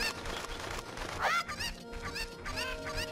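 Cuccos, the chickens of The Legend of Zelda: Ocarina of Time, cluck and squawk in short harmonic bursts over game music, with one louder rising squawk early on and several quicker clucks after it.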